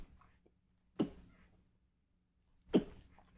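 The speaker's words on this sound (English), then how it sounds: "Man, I'm sneezing bad." Two sharp sneezes from a person, about two seconds apart, close and fairly quiet against near silence.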